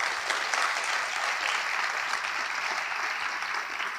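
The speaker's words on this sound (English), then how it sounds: "Can we give them a big, nice round of applause?" Audience at an awards evening gives steady, even applause that continues throughout, moderately loud and slightly distant.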